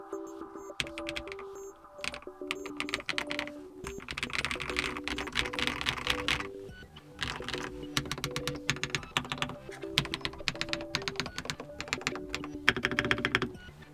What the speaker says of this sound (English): this sounds like a lubed keyboard